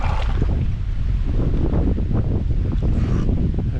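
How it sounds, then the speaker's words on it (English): Strong wind of about 15 miles an hour roars and buffets the microphone continuously on a boat, a heavy low rumble with a faint watery wash beneath it. "the wind is literally out of control"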